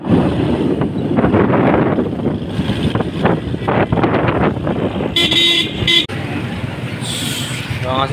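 Steady wind buffeting and road rumble while riding a motorcycle through traffic, with a few car horn toots near the end and voices talking over the noise.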